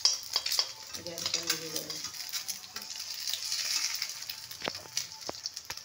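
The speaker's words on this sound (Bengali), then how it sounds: "ডিমটা অল্প ভেজে তুলে রাখবো" An egg frying lightly in a pan over a gas flame, a steady crackling sizzle with a few utensil clicks, while someone talks briefly over it.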